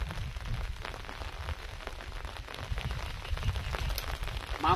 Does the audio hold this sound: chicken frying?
no